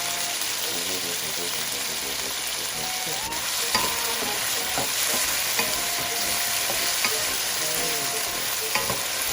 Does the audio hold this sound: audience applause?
no